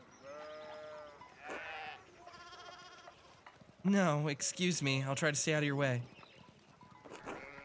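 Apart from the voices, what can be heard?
sheep bleating, from the video game Pentiment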